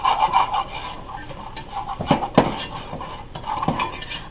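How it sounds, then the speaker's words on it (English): A metal whisk scrapes and clinks against a very hot pot as flour and fat are whisked together, producing irregular rubbing strokes with a few sharper taps, close and fairly loud. "I'm going to whisk it just a little bit with my metal whisk."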